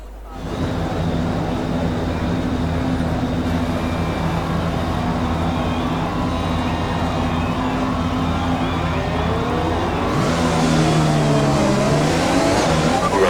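A Formula 1 race car engine in the F1 2020 video game drones steadily at high revs, with a pitch shift and gear changes near the end. It sounds close and continuous.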